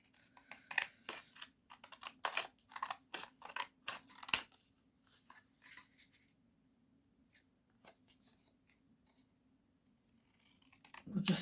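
Scissors snip down a paper gift tag during a journal craft session, a run of sharp close clicks and cuts in the first six seconds, then quiet with a faint low hum.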